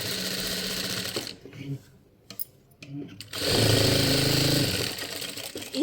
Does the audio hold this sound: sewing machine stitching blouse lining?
yes